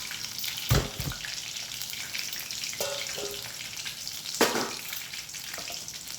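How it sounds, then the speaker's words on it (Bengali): Bottle gourd leaf rolls frying in hot oil, a steady broad sizzle with a couple of sharper clanks or spatters, moderately loud and close, no voices. "এরকম আমি একে একে করে সবকটাই ভেজে নেবো।"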